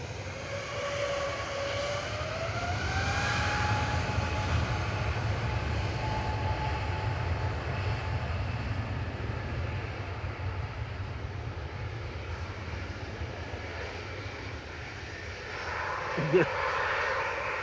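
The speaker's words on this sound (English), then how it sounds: "who's taxiing that Ryanair?" A Ryanair airliner taxis at Manchester Airport, its steady engine whine and low rumble holding throughout, with a rising tone early on and a short knock near the end; voices talk over it.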